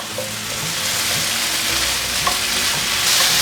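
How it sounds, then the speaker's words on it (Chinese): Vegan dish seasoned with rose salt being stir-fried in a pan: a steady, loud sizzle with scattered scrapes and clinks of a spatula tossing the food, no voices. "快速拌炒"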